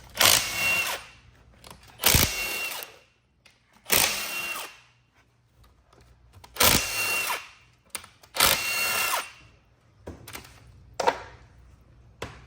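Power tool spinning out the top 10mm bolts on an LS 6.2 engine during teardown, several loud bursts of whirring rattle separated by quiet pauses, close and harsh.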